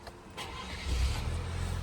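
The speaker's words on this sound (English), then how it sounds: "Very quiet engine noise to this. It doesn't louden up the cabin." Engine of a 2024 Chevrolet Colorado Trailboss idling, heard from inside the cabin as a low, steady, subdued hum that swells slightly partway through, with no talking.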